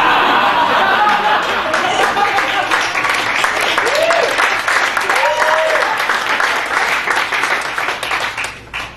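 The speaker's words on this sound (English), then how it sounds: "But you get applause." A comedy club audience at the Improv in Los Angeles breaks into sustained, loud applause mixed with chuckles and scattered voices, fading slightly at the end.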